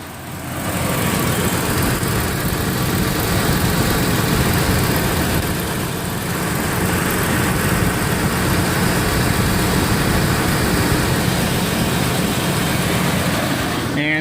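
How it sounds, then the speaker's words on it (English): A Ford 4.6 V8 idles steadily after an EGR tube repair and flange weld, a smooth, even engine drone close by with no popping, running alone throughout. "the engine's running and it sounds great"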